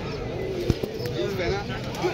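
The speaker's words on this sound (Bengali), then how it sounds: "এগুলো সব হাই ফ্লাইং পায়রা।" High-flying pigeons at a Galif Street pet market coo in low soft murmurs behind nearby voices, with a sharp tap and faint bird calls amid the busy stall.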